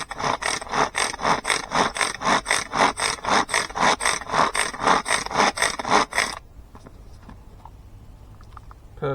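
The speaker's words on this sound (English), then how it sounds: "I've got a new device with me today for cutting my worms, so I'm going to whiz some up now" Worm-cutting machine mincing worms for bream bait, a fast steady whirring chop with a regular pulsing rhythm, loud and close for about six seconds before stopping abruptly into near silence.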